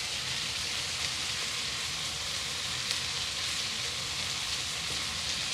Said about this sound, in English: Let's put our cumin in.